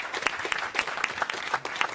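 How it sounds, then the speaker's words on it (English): A small group applauding steadily, a dense patter of claps at moderate loudness with no voices standing out. "It's a round of applause for all of you as well."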